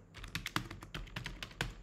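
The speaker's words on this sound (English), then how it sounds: "So I am typing addition here" Quick, light keystrokes tap on a computer keyboard in an uneven rhythm while typing in the Eclipse Java editor, close and fairly quiet, with no voices.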